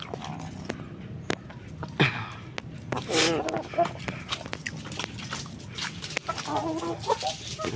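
Free-range chickens clucking and squawking excitedly, including a male breeder rooster, with agitated calls scattered across the clip, close by, while a person talks over them.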